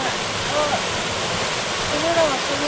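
The Yahagi waterfall in a mountain setting gives a steady, loud rushing roar of falling water that stays even throughout, with faint distant voices and a few brief tonal calls over it.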